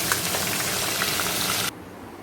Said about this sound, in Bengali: আর মাথাটা একটু ভেজে নিচ্ছি।